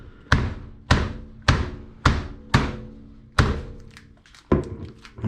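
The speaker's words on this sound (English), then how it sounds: "I don't have a meat mallet on hand, so I'm just going to take a Cholula bottle and whack." A Cholula hot sauce bottle pounds raw chicken breast flat on a kitchen surface, seven loud, close thuds spaced about half a second apart, each ringing briefly before fading.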